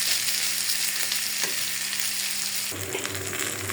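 Onions are added beside fried bitter gourd in a pan and fry with a loud, continuous close sizzle and a few crackles, with no voices.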